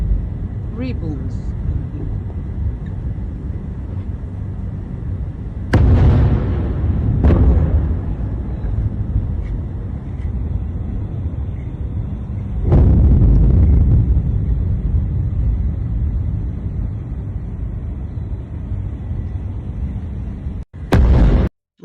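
Missile launches with distant booms: two heavy, rumbling blasts a few seconds apart rise over steady wind buffeting, followed by a short sharp thump near the end.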